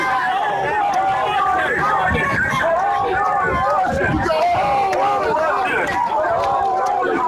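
A large street crowd gathered during a police arrest: a thick, constant babble of many voices and shuffling movement close around, with nearer people talking over the hubbub.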